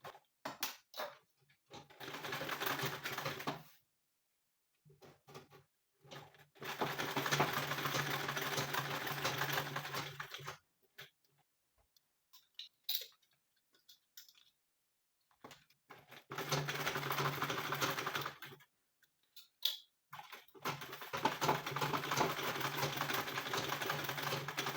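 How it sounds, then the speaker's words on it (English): A sewing machine stitches the base of a handbag in several bursts of steady rapid whirring, separated by silent pauses as the fabric is adjusted, with the motor close and moderately loud. "So we're going to sew this together"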